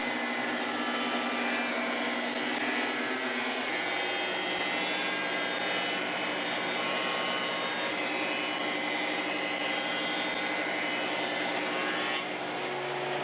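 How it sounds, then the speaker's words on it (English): A wood thicknesser planes a pine mast, giving a loud, continuous machine whine and hum that holds steady throughout with no talking. "I will run this through the thicknesser"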